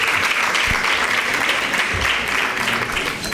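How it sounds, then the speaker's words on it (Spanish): Steady applause from an audience at a round-table event on cancer research, a dense continuous clatter of many hands clapping with no break and no voices over it. "Darles un fuerte aplauso, sí,"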